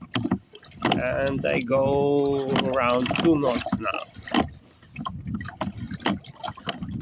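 Oars working a small 2.4 m dinghy against a river current, soft splashing and gurgling strokes in an uneven rhythm under someone speaking close by.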